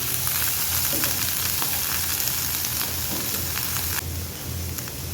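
Green chillies frying in hot oil give a steady, dense crackling sizzle that runs throughout, close and loud, with no voices.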